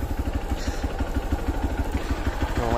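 A motorcycle engine idles steadily up close, its low, even thumping pulses running without a break from start to end. No one speaks.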